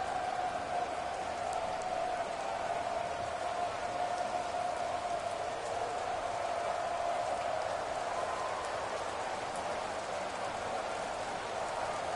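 Steady rain pours during a football game broadcast, a constant close hiss of drops on surfaces with faint crowd murmur underneath, unbroken throughout.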